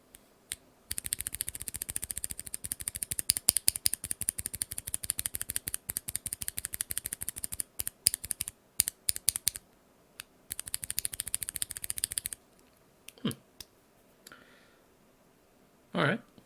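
NovelKeys BOX Cream switches fitted with keycaps are typed on in quick, close bursts of crisp clacks, with a short pause midway and a few scattered keystrokes and a faint voice near the end.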